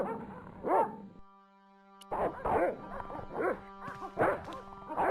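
Dogs bark repeatedly in the point-and-click adventure game Broken Sword: Shadow of the Templars, sharp close yips and woofs in irregular bursts over a steady synthetic background tone, with a brief pause midway.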